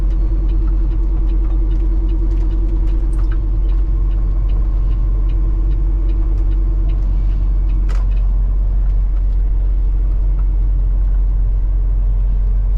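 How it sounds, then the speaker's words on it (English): Old-school trucks at a truck stop rumble with a steady, loud, low engine drone that holds for the whole stretch, with faint clanks and knocks scattered on top and no voices. "I like the old school trucks."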